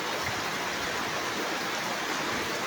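Heavy, unceasing rain pours down as a dense, even broadband wash of noise, close and steady across the whole stretch, with no voices.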